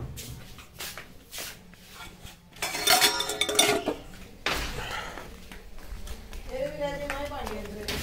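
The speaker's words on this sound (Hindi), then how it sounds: "बर्तन रखने जाता हूँ मैं किचन में" Dishes and cutlery clink and clatter as they are set down in a home kitchen after a meal, a run of close, bright knocks and rattles with someone talking over them.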